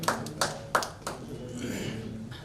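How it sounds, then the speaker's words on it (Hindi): Several sharp, separate hand claps ring out near the start at a short-film launch event, then fade into a quieter murmur as a voice continues speaking. "मैं चाहूँगा कि सब एक बार ताली बजा के अभिषेक भैया का"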